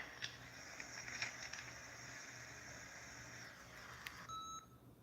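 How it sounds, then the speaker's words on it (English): Faint, thin electronic beeps sound over a steady hiss, with a few short chirps near the end, quiet and somewhat distant. "I heard something beeping."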